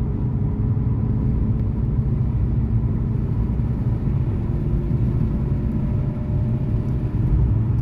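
A Fiat Egea car accelerating up to 90, heard from the interior as a continuous, fairly loud low rumble of engine and road noise with a faint whir.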